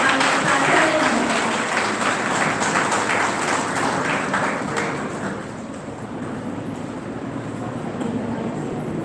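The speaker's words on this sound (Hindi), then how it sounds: "जोरदार तालियों से स्वागत कीजिएगा हमारे प्राचार्य महोदय।" An audience at a Teacher's Day event on a Himalayan university campus claps to welcome the principal, a dense, sustained round of applause that thins and softens after about five seconds.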